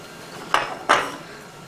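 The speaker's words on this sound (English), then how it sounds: "take a pan in which you're going to cook your vegetables. Add green beans," Green beans are tipped into a cooking pan, giving two quick, bright metallic clanks close by over a quiet background.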